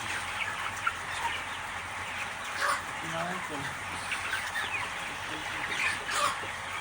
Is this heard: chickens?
yes